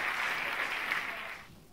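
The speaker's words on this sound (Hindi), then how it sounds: "तो इनके लिए जोरदार तालियां" Loud applause from a Diwali concert audience in Barendrecht for the musicians and sound engineer, a dense steady roar of many hands that holds, then tapers off near the end.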